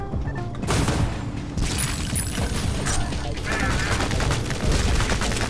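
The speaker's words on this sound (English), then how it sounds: "We use the tank again, the one button tank." Tank cannon and gunfire in the Ion Fury video game hit as a dense burst of heavy booms and rattling fire after a brief quiet start, loud and continuous, with mechanical clanks mixed in.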